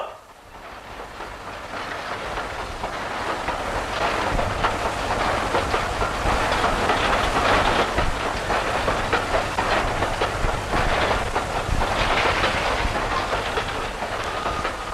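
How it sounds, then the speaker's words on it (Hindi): A train approaches with a loud, steady rumble and rhythmic clatter of wheels on rail, building in the first seconds and then holding strong and continuous throughout. "ट्रेन आ रही है, जरा उधर ही रुक जाओ।"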